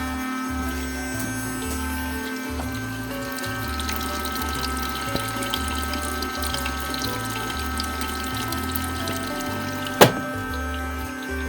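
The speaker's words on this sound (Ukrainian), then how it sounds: "насос працює, воду набирає" A washing machine pump hums steadily while drawing in water from a bucket or barrel, water trickling and flowing in, with a rhythmic low pulsing underneath and a single sharp click near the end.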